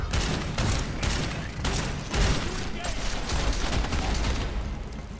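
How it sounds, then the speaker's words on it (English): Rapid bursts of armor-piercing gunfire in Deus Ex: Mankind Divided, loud and dense, with booms and mechanical clatter mixed into the game combat. "And now I'm gonna dig out the armor-piercing rounds."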